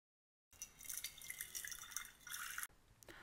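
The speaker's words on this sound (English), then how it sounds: "First, let's add the milk and then water." Milk and then water poured into a pot on a medium-high stovetop flame for Indian chai, a steady liquid splashing and trickling for about two seconds, then a brief softer pour, with no talking.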